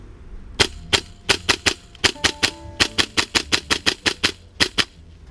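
A Tokyo Marui M4A1 MWS gas blowback airsoft rifle with an aluminium bolt carrier fires about twenty sharp, loud cracks outdoors in a steady rapid rhythm, with brief gaps between short strings.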